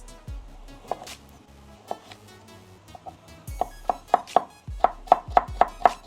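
A kitchen knife coarsely chopping vegetables for borscht on a cutting board: a run of close, sharp chops, sparse at first, then a quick, steady rhythm of about a dozen strokes, with no talk.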